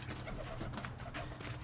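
Birmingham Roller pigeons coo softly inside their loft, a low, muffled murmur of several birds over steady background hiss, with no talk.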